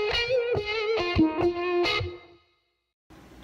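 Dry electric guitar line with distortion and no delay, a series of plucked, sliding notes that stops cleanly, leaving silence before faint noise returns.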